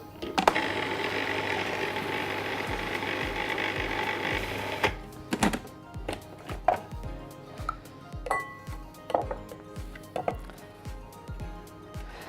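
Spinach is chopped finely in a food processor for vegetarian burgers: a steady whirring motor run for about five seconds, then a series of short, rhythmic pulses with rattling bursts, close and loud.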